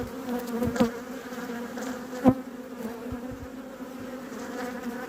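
Honeybees hum around a beehive in a steady close-range buzz, with individual bees droning past near the microphone and a couple of louder passes, and no one talking.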